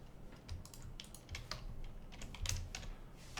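Typing on a computer keyboard: rapid, uneven clusters of light key clicks close by, continuing steadily with short pauses and no voices.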